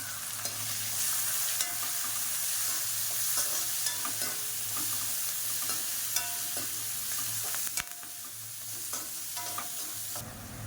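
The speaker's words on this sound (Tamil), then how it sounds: "வெங்காயம் வதக்கி விட்டுக்கலாம்" Onions sautéing in a pan for kuzhambu, a dense steady sizzle with scattered scraping stirs and a sharp clank partway through, close and loud, no talking.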